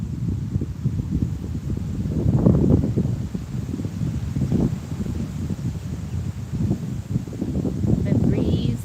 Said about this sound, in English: The breeze, the wind blowing is nice.